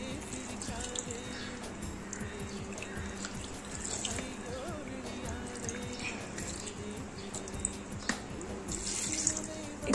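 Water runs and splashes while masala residue is rinsed out of a mixer grinder jar into a pot of mutton head curry, a steady close trickle with occasional drips and clinks, no talking.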